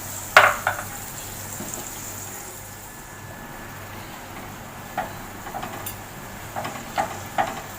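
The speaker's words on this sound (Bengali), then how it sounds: "এখানে দইটা দিয়ে গ্যাসটা কমিয়ে রাখতে হবে আর এরকম ক্রমাগত নাড়তে হবে।" Yogurt stirred constantly in a pan over a low flame gives a soft, low hiss, with a sharp clink of utensil on metal at the start and quiet scrapes and taps later, without speech.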